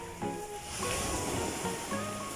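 Sea waves at a clean, calm beach resort, a soft continuous wash of surf with gentle swelling, fairly faint and distant, with some wind and light background sounds.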